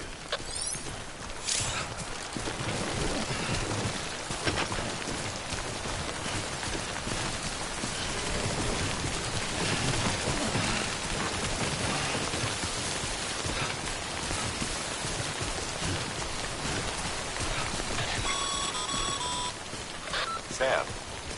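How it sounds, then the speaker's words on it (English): Heavy timefall rain pours steadily in the video game Death Stranding, a dense continuous hiss lasting throughout, with a voice speaking over it and brief electronic beeps near the end. "Don't stay out in the rain any longer than you have to."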